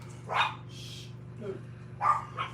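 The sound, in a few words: dogs barking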